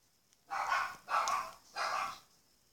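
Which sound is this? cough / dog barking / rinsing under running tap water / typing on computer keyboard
dog barking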